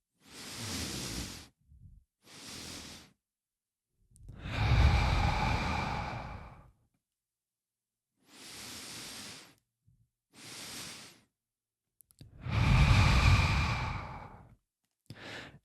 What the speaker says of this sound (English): I'm going to do an inhale, followed by another inhale, followed by an exhale.